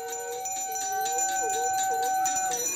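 A handbell rung continuously at a Congress street protest over unemployment in Dehradun, its bright steady ringing heard under a talking voice and crowd noise.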